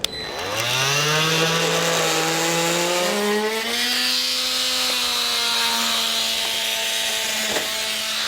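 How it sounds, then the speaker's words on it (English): Power tool cutting out a piece of plastic on a 2018 Ford Edge, a loud continuous whine that rises steadily in pitch as it spins up, steady throughout with a brief knock near the end. "I'm going to use my tool again to just cut that piece of plastic out"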